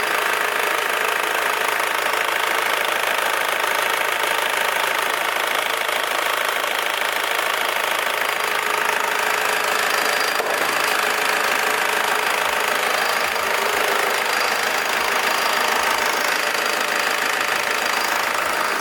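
A car engine with a damaged seal under an injector idles steadily, an even mechanical hum with a faint rhythmic knock, continuous and close for the whole stretch.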